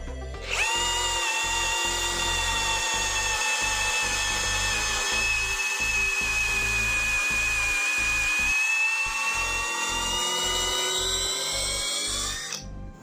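A Nagawa NCB1021 cordless brushless drill bores into mahogany wood in first gear, running with a steady high whine and strong harmonics for about twelve seconds. The motor holds a constant pitch under a thick grinding rumble, then winds down at the end.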